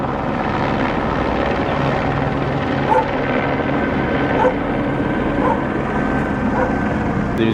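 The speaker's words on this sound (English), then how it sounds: "There's another helicopter right there." A helicopter flies overhead above a city neighborhood, its steady rotor drone loud and continuous, with a dog barking faintly and briefly underneath.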